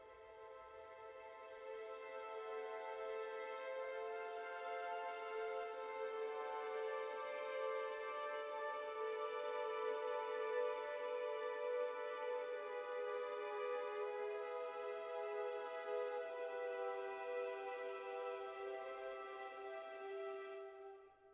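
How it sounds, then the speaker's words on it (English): A string section bows a long, sustained chord on practice bows with no rosin, producing a soft, airy, breathy tone. It swells gently, holds steady for about twenty seconds and then fades, from the Spitfire Albion V library. "this is played with no rosin on the bow"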